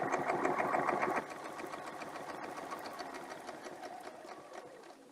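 A sewing machine stitches a quilt in a brisk, steady run, louder for the first second and then continuing a little softer with a mechanical hum underneath.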